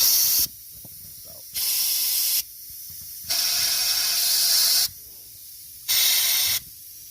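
Compressed air sprayed into an engine bolt hole during lifter replacement on a Chevrolet Tahoe, four loud, steady hissing bursts of one to two seconds each, separated by short pauses.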